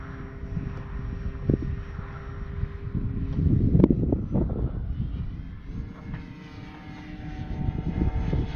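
An Arrows RC Tecnam 2010 model airplane drones steadily overhead as it flies, its motor whine rising and falling slightly against rough outdoor wind noise on the microphone.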